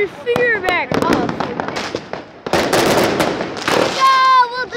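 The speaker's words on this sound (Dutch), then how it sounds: "Iedereen steekt hier vuurwerk af." Loud firecracker bangs and crackling bursts come in quick clusters, mixed with people talking and a whistling rocket-like squeal.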